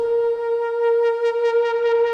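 A Korg multi/poly synth patch with LFO-modulated pulse width holds a single sustained note played hard, its bright buzzing tone pulsing quickly, heard alone.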